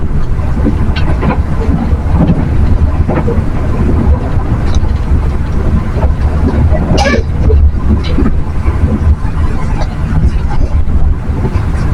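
KA Taksaka passenger train running on rails on the central line toward Yogyakarta via Purwokerto, heard from inside as a steady loud rumble with faint clatter and a brief higher squeal near the middle, under a constant cabin roar.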